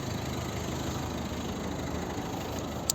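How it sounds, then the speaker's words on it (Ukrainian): A 1.6-litre diesel engine in a 2012 Volvo V50 idles steadily close by with its engine cover removed, a continuous low rumbling clatter without change in pace. "Кришку спеціально зняв, тому що буду показувати, як працює двигун."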